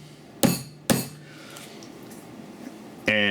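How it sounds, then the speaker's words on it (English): A hammer whacks a metal pillar twice in quick succession with sharp ringing clanks, followed by a quieter pause and then a bright resonant metallic tone near the end. "give it a couple good whacks with a hammer."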